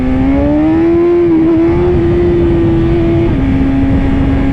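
A motorcycle engine revs hard in first gear for a power wheelie, holding a loud, steady, slightly rising note before the pitch drops abruptly near the end as the engine keeps droning.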